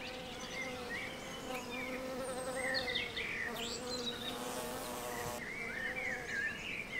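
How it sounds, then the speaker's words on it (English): Bees hum steadily and closely among fruit trees in full spring bloom, with scattered bird chirps and tweets over the continuous buzz. "High season in spring is a very strenuous time for bees."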